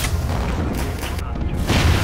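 Japanese torpedo hits exploding in the naval game Navyfield 2, heavy rumbling booms that roll continuously and loudly through the short stretch, with a brief dip before a final swelling blast.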